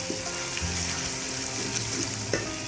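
Tomatoes cooking down in hot oil with spices for a mixed vegetable curry give off a steady close sizzle, with faint scraping stirs now and then and no voices.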